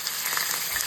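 A filet mignon sizzling in a pan, a steady close frying hiss dotted with small pops.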